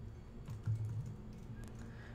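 Computer keyboard typing while filling out a web contact form, a few soft, close keystrokes over a low steady room hum, quiet and brief with no talk.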